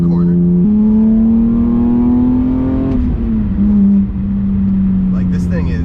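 An S54-swapped BMW E36 howls through a corner under hard driving, its engine note climbing steadily, dipping briefly and then holding, loud and close from inside the car.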